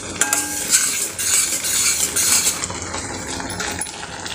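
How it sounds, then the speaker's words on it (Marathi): Thick fig barfi mixture with ghee stirred in a pan, a close utensil scraping and clinking against the metal in a steady rhythm over a soft sizzle, no voices. "हलवत राहायचं आहे, याला खाली डागू द्यायचं नाही."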